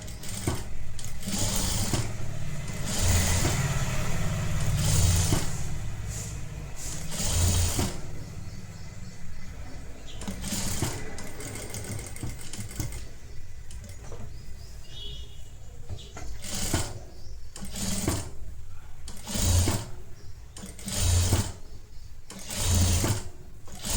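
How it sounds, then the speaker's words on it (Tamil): A sewing machine stitches a netted blouse in bursts, with steady whirring runs broken by short pauses and handling noises, close and clear. "இந்த இடத்துலையும் ஒரு ஸ்டிச் போட்டுக்கோங்க"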